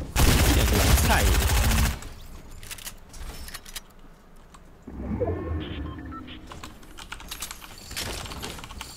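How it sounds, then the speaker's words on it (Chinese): Gunfire in the video game Fortnite, a loud dense burst of shots filling the first two seconds, then quieter clicking and in-game sounds with a faint voice. "这一季我超容易开枪，对面没受伤"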